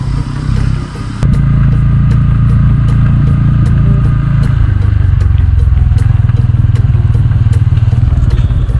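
Bajaj Pulsar N160 motorcycle ridden over a snowy mountain track, its engine droning steadily and loud close up with a sharp knock near the start, the engine note holding constant throughout with no talk.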